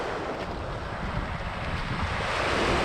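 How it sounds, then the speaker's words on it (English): Waves wash steadily onto a lake shore beside a hiking trail, giving a continuous, fairly loud rushing surf that is roughened by wind buffeting the microphone, with no voices. "the trail brings us right down to the lake shore, just like the ocean"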